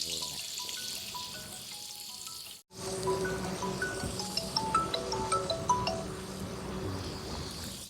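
Green chillies and onions drop into hot oil in a pan, and after a brief cut the frying sizzles steadily with crackling pops and spoon clinks, close and moderately loud, with music faintly underneath early on.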